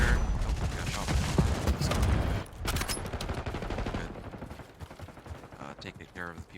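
Rapid bursts of gunfire in the Black Ops 6 shooter game, dense and loud, continuing for several seconds and then thinning out, with a voice heard briefly near the end.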